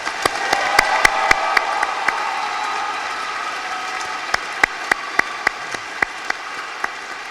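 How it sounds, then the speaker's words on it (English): A commencement audience applauds faculty, the crowd's clapping fading over the first seconds while a few sharp, close individual claps keep sounding on their own afterward. "So if we could give them one more round of applause"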